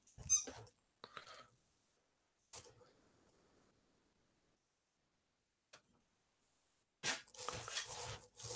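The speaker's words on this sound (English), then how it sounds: "There is a dog outside my door." Faint, scattered squeaks from a squeaky ball and muffled dog noises come in short bursts separated by long quiet gaps, sounding distant through a door.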